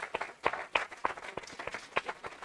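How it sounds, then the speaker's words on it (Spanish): Sparse applause from an audience bidding farewell to Esperanza Aguirre, a scattering of distinct hand claps with uneven rhythm, fairly quiet and somewhat distant. "Y yo les pido que despidamos a Esperanza Aguirre con un fuerte aplauso."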